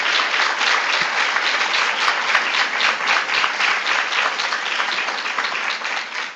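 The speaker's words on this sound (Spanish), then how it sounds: "Muchas gracias por los aplausos" Sustained audience applause for a Supreme Court justice, dense steady clapping from a sizeable crowd that holds at an even level throughout.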